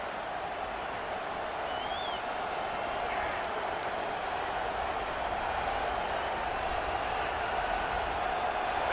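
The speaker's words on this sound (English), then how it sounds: "This crowd ready to make its presence known." A stadium crowd in College Football 26 roars in a steady, dense wall of cheering that holds for the whole stretch, loud and continuous with no breaks, while a commentator's voice is faintly mixed in.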